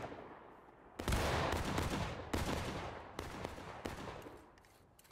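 Musket volleys in the Civil War game War of Rights, several loud, sharp cracks from many rifles at once, each rolling off into a long echoing tail, spaced about a second apart with no talking.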